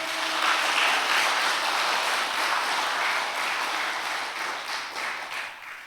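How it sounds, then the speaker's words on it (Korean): Church congregation applauding during a Sunday worship service, a steady broadband wash of many hands clapping that fades slightly toward the end. "우리 하나님께 박수 한번 치십시다."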